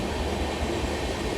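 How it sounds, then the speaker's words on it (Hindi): A Vande Bharat Express train runs past on an Indian railway line, giving a loud, steady rumble and rush of wheels on rails that fills the whole moment with no break and no voices. "अब सामने से आने वाली है भाई वंदे भारत एक्सप्रेस"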